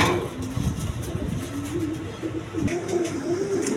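A running pair of pigeons offered for sale coos in low, repeated murmurs, close by under a background of engine and traffic rumble.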